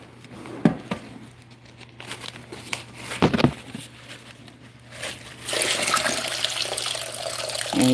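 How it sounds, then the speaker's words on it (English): Water drains and trickles out of clay pebbles in a houseplant pot during repotting, with scattered splashes and rustles, then a steadier rushing pour that runs loud to the end. "all that water was draining out of those clay pebbles."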